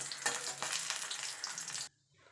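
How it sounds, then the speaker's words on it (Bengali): Lentil boris crackle and sizzle as they fry in hot oil for a fenugreek greens dish, a loud, dense hiss up close that cuts off abruptly near the end, leaving near quiet. "এবার আমি বড়িগুলোকে ভেজে নেব। বড়িগুলোকে লাল লাল করে ভেজে তুলে নেব।"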